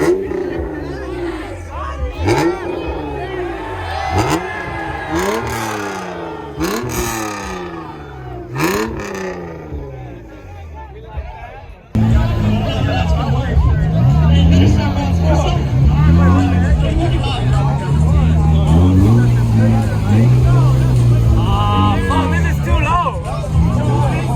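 A Honda NSX drives under a limbo bar at a car limbo contest while a large crowd whoops and cheers. Engine revs rise and fall in repeated surges, then loud crowd noise and nearby shouting take over.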